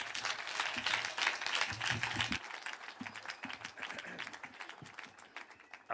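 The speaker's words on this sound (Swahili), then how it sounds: "Tungetaka kwa heshima tumpigie makofi, tumkaribishe rais wetu." Faint, distant crowd applause at a funeral service in Nyandarua, welcoming President Ruto: a continuous patter of many hands clapping that thins slightly toward the end, with a low murmur underneath.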